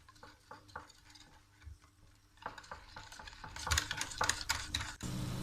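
A spoon stirs orange food colour into a pakora batter for naan pakoras, soft repeated scraping and wet ticking close by, growing busier and louder toward the end, with no talking.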